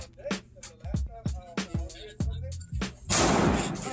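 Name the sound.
gunshot at a shooting range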